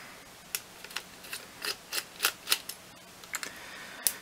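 Screws being backed out of an Astro 40SLMAX LED flashlight give a run of small, close, crisp clicks and ticks in an uneven rhythm, with a few quiet gaps and one last sharp tick.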